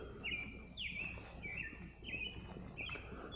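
Birds chirp repeatedly outdoors at Chain O' Lakes State Park in northeast Illinois, thin high whistled calls recurring every second or so over a steady background hiss.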